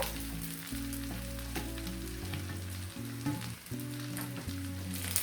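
Avarekalu chitranna rice is stirred and mixed in a hot pan, a steady sizzle and crackle running under repeated scraping strokes of a spoon against the pan, close and continuous with no talking.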